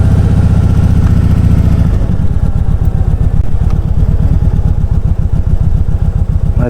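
A 2017 Kawasaki Voyager 1700 motorcycle engine thrums loud and close while riding, a deep, fast, even pulsing that shifts pitch partway through as the revs change.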